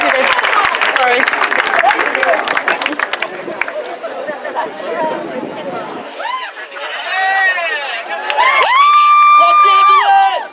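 A concert crowd at a memorial show in Los Angeles applauds and cheers loudly and continuously, with high shouts and whistles rising out of the roar toward the end.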